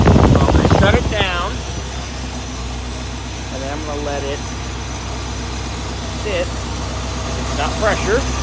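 A warmed-up 1958 Cadillac Biarritz engine idles steadily with an even low rumble, while someone speaks over it at the start and again intermittently.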